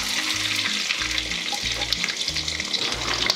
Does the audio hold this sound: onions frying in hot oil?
yes